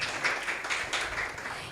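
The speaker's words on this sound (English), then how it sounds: "Please, a round of applause for them." Brief, fairly quiet applause rises from an audience at a legal technology festival. The claps are loose and uneven, with a murmur of the hall behind them.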